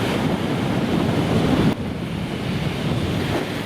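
Strong hurricane-force wind roars by the sea in Gelendzhik, a loud broadband rush buffeting the microphone with surf mixed in, dipping slightly partway through before continuing steadily.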